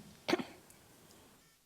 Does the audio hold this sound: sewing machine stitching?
no